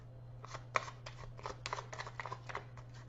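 Playing cards shuffled by hand during a French card reading, a run of short papery riffles and flicks spread over a few seconds, close and fairly quiet over a steady low electrical hum.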